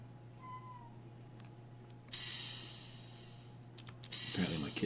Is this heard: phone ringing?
no